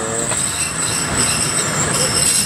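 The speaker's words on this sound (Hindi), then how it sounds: "सही हमारी बोगी प्लेटफॉर्म पे अराइवल हुई है।" A train coach rolls into the platform at Abdul Hakim railway station, a loud, continuous rumble of wheels on rails with a steady high metallic squeal running throughout.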